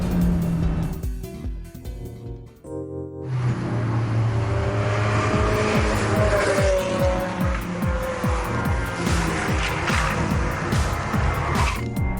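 A Mazda 2 race car laps Cadwell Park track, its engine droning loudly and steadily through gear changes, with tires squealing at points for about twelve seconds.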